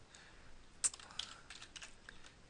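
Soft keyboard taps on a computer, a few scattered clicks with one sharper keystroke, quiet and near with no voices, while entering a command to stop a web server.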